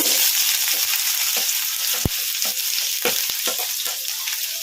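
Chopped onions added to hot oil with mustard seeds and cumin give a loud, steady sizzle, with occasional stirring knocks and pops throughout.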